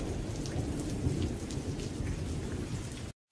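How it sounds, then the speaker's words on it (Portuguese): Rain pours down in the video game The Isle, a steady, loud hiss of falling drops with a low rumbling undertone, continuous until it cuts off abruptly. "Você não tá vendo essa chuva caindo?"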